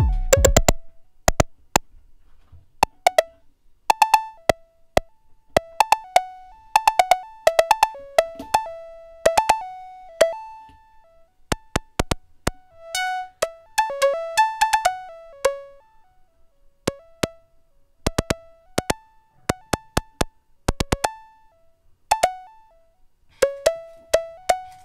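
A modular synth runs through a low pass gate with bass, playing sharp plucked notes that decay quickly in an uneven sequencer pattern over a low bass tone, loud and close, with no voices.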